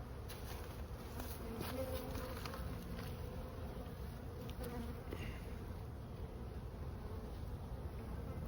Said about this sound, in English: there's at least 10 frames of bees